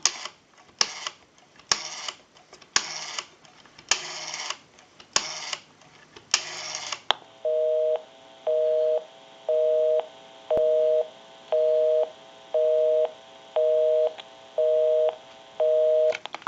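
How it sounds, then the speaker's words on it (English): An Automatic Electric Monophone rotary dial desk telephone clicks through a series of dial pulses in separate bursts, then a busy signal pulses in about ten evenly spaced, steady tone beeps. "We'll call my number and it'll be busy."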